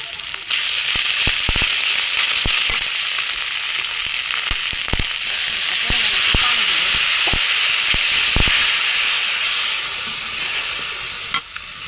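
Quail frying in a pan as garlic, ginger and cumin pastes go in, a loud continuous sizzle and hiss with frequent sharp spatula strikes and stirring clatter, and a voice faintly present.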